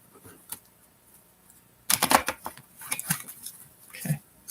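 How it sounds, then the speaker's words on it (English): Bent deck of tarot cards riffle-shuffled and bridged, a quiet tap early on then a dense fluttering burst of card riffles lasting a couple of seconds, close and crisp with no talk. "I'm not quite sure how to do the bridge maneuver when you're doing the card shuffling."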